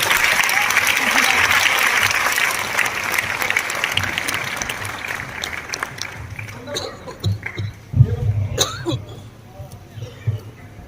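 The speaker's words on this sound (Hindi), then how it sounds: "हाथ उठाकर तालियां बजाते हुए आप बुलाएंगे" Loud applause from a crowd at a Hindi comedy poetry gathering, strong at first and then thinning into scattered claps with coughs and murmurs toward the end.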